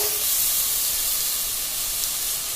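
Finely chopped onions with salt hiss and sizzle steadily in a hot pan of oil for a mutton kheema fry, a loud continuous close frying spray with no talk.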